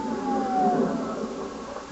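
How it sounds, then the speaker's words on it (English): A wailing siren rises and falls steadily in the distance during fighting in Kobani, sustained throughout with a faint background rumble. "Explosions and gunfire, followed by sirens"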